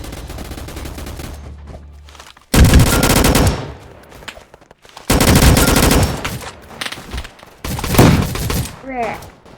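Gunfire from a car in a video game, with loud bursts of rapid shots in separate volleys and short quieter gaps between them.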